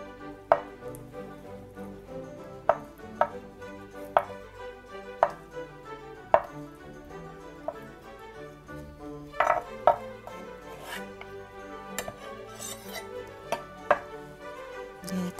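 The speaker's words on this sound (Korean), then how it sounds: "쑥갓도 이렇게 반 정도 잘라서 이렇게 준비해 주세요" A knife chops crown daisy and tofu on a cutting board for spicy pollock stew, with sharp, irregular knocks a second or so apart over a soft background hum, close and moderately quiet.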